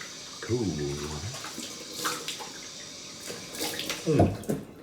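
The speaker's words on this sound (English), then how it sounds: "time to wash my face off with cold water." Cold tap water running at a bathroom sink while a face is splashed and rinsed after shaving, soft intermittent splashes and trickling, with a brief voice at the start.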